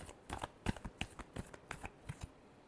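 A tarot deck is shuffled by hand, giving a quick series of crisp, close papery riffles and taps with short pauses between them.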